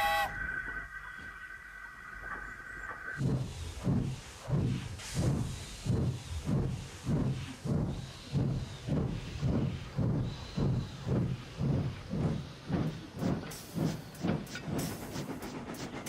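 A steam locomotive chuffs in a steady, accelerating rhythm as it pulls away, with a burst of hissing steam at the start and a brief whistle near the end.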